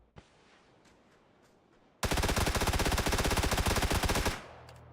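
MP5 submachine gun in PUBG fires a long rapid burst of about two seconds, loud and close, after a quieter stretch of in-game ambience with a single faint click.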